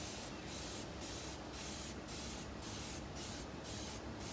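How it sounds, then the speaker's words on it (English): Rapid repeated spray bursts, about eight evenly spaced pumps of a trigger sprayer applying Dawn dish soap onto outdoor AC unit fins, close and fairly quiet with a steady hiss beneath. "I go in here and I just spray Dawn."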